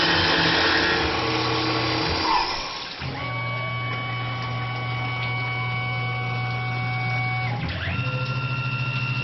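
A Tormach PCNC 1100 CNC mill cuts metal on a light, fast pass with a steady high whine and humming tones that shift partway through, as the machine chatters while it runs close by.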